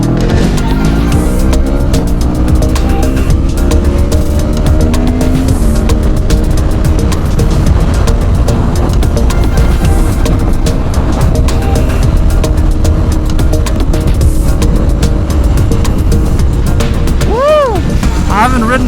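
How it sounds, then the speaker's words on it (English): A 2025 Honda CBR 1000RR-R Fireblade SP sportbike riding through Portland traffic, its engine droning loud and close with a rising rev near the end, a rider's voice talking over the steady roar. "I haven't ridden a bike in Portland in a while."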